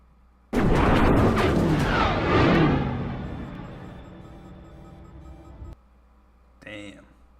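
A torpedo launch and explosion in a space battle from the sci-fi series The Expanse: one sudden, loud roaring blast that swells and slowly fades over several seconds, followed by a short voice.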